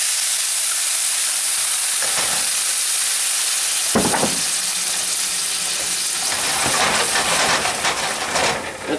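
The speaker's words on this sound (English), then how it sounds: "I'm going to deglaze it with a little bit of wine." A hot pan being deglazed with burgundy wine gives a loud, steady hiss and sizzle that flares in several sharp bursts as the liquid hits the metal, with no talking.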